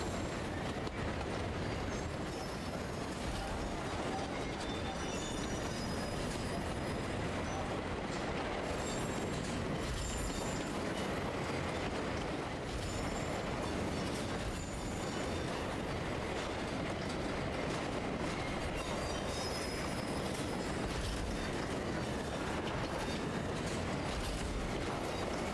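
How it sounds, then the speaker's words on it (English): In the railway-building game Railgrade, a train rolls steadily along the rails, giving a continuous dense rumble with faint clickety-clack and occasional high wheel squeals throughout, and no talk. "Alright, let's just ride the train."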